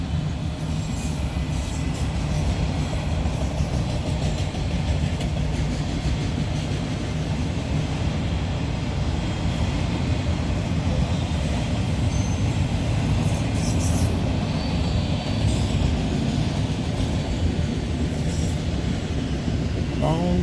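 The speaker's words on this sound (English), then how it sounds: "Long train running." A long freight train rolls steadily through the small town of Valley Mills, with continuous loud wheel-on-rail rumble, clanking cars and occasional high wheel squeals across the whole stretch.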